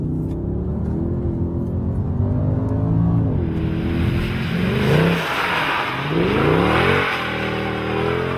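A Mercedes CLK 63 Black Edition engine revs and accelerates, a loud, close, rumbling note climbing through gear changes with sharp pitch drops and swells, heard alone without talk.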